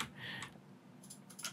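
Quick taps on a computer keyboard come in two short bursts, close and fairly faint with a quiet pause between them and no voices.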